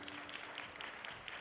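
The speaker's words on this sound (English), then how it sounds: "Clap her all the way up to the stage, everybody." Faint, fairly steady applause from mourners at a memorial service as a speaker makes her way to the stage, soft, diffuse clapping heard from a distance without speech.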